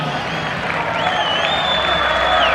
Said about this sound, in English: Y'all go ahead and give him a big round of applause.